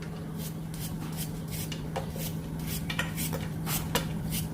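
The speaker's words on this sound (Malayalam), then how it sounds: "നീളത്തിൽ ഇങ്ങനെ അരിഞ്ഞ് ഇങ്ങനെ കനം കുറച്ച് അരിയണം" A knife slices onion thinly lengthwise on a cutting board, a quick run of about a dozen crisp, rhythmic taps close up, with no talking.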